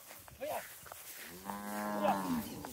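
Cows moo nearby, one long drawn-out low call following shorter grunts, with faint outdoor background and no talking.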